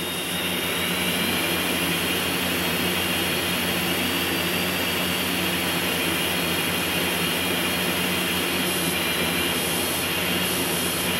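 A Harrier jet flies fast in the video game GTA San Andreas, producing a loud, steady, continuous engine roar and whine that holds at an even level throughout with no talk.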